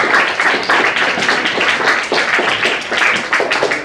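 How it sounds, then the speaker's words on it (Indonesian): A classroom group claps for Andre's student team after their presentation during a teaching practice session, a dense, steady patter of many hands filling the room, fairly close and sustained with no talking over it. "Beri aplaus untuk kelompok Andre."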